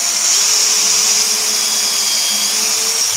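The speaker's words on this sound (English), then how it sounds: "And just drill straight the way down right to that stop collar on the drill bit." A power drill bores straight down into wood held in a vise while building a fold-away hook rack, running to the stop collar on the bit; a steady, loud, continuous whir with no talk.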